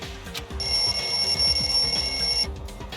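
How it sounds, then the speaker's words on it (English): In the Danganronpa 2 video game, a lounge wall clock alarm rings with a steady, shrill electronic tone over a pulsing game soundtrack, lasting about two seconds before cutting off. "The lounge's wall clock alarm started ringing at 5:30."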